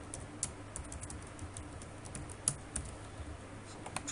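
Typing of code on a computer keyboard, a quick irregular patter of light key clicks with a few sharper taps, close and fairly quiet, with no one talking.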